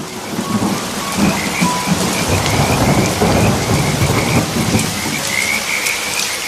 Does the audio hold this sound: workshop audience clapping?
no